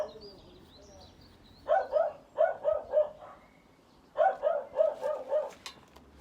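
Dogs bark in two clustered bursts of about four to five sharp woofs each, fairly near, passing by an allotment plot, with quiet outdoor ambience between the bursts.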